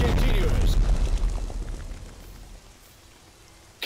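Artillery salvos and explosions in Strategic Mind: Blitzkrieg, a World War II strategy game on a Sea Lion invasion mission: a loud, dense rumbling barrage with heavy booms at the start that fades to a low roar, then a final sharp hit.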